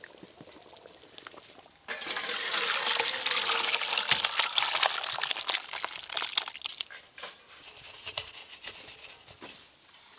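Cooked mutton curry poured out of a cooking pot, a close, thick wet rushing and scraping that swells for several seconds, then thins to scattered rubbing sounds.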